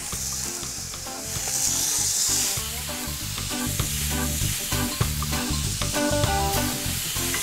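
Fish with Scotch bonnet chili frying in a pan, with a loud, close, continuous sizzle, bursts of hissing spatter and repeated utensil scrapes and taps as it is turned and stirred, with no voices.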